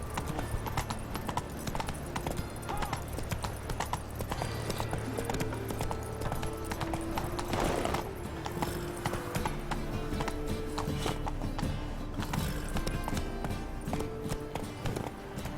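Roach the horse gallops in The Witcher 3, hooves pounding in a fast, continuous clip-clop rhythm at close range, with faint game ambience and a brief burst of other noise midway.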